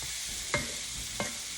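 Hamburger meat and potatoes simmer and sizzle in a pot with a steady frying hiss, punctuated by three brief scrapes or knocks of stirring.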